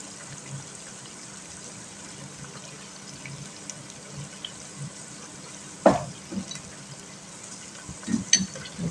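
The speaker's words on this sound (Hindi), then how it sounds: "इसको थोड़ा सा भून लेते हैं" Chicken and tomatoes fry in a pan for pulao, giving a steady low sizzle with a few louder stirring clatters near the end.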